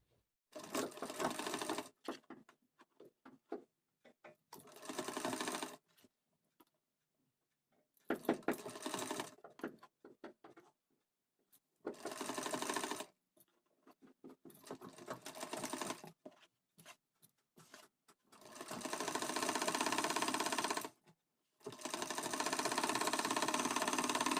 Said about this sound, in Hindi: तो चलिए अब इसे भी सिल के पलट देते हैं।